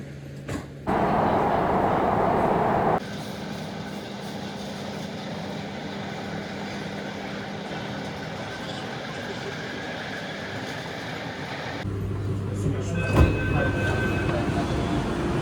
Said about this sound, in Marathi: हे आहे स्वारगेट मेट्रो स्टेशन आणि आता आपली मेट्रो येते